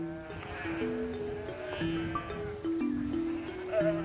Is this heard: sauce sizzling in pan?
no